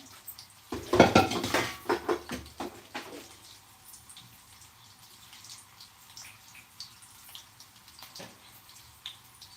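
Utensil scraping and clinking against a kadai as fried bitter gourd is lifted out, a burst of metallic clatter near the start, then faint intermittent clinks over quiet.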